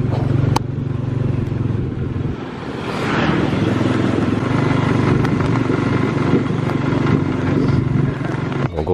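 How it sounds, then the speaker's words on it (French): Steady motorcycle engine driving a small passenger cart in Indonesia, a loud continuous drone close by for the whole stretch, with a brief dip midway before the engine pulls strongly again. "Il y a des espèces de petites charrettes avec soit un vélo, soit une moto derrière."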